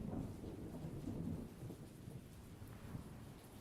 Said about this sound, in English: It's like real thunder, almost.